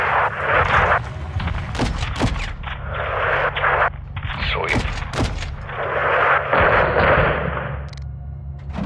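Artillery fire in the video game Call of Duty: Modern Warfare 2 pounds away in a loud, sustained barrage of booms and sharp blasts, mixed with rumbling explosions and battlefield noise.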